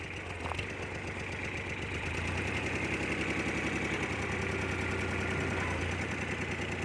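A tractor's diesel engine running steadily at idle, with a low rhythmic knocking chug and constant vibration, close and unbroken throughout.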